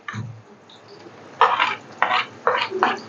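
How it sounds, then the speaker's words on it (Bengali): Onions and salt being stirred in a pan with a utensil, several distinct scraping strokes in quick succession after a brief low knock, close and fairly loud. "একটু নাড়িয়ে নিলাম।"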